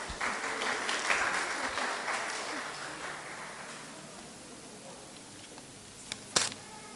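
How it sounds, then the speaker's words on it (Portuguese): A church congregation claps at a Father's Day Sunday school gathering, moderate applause that gradually thins out and fades, followed by a few isolated clicks. "Palmas."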